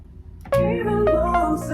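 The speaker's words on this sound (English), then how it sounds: "All right, and now I'm gonna add a pluck." Bright synth pluck from FL Studio for an upbeat midtempo track, a sharp attack followed by ringing tonal notes with a few quick repeated plucks, loud and alone.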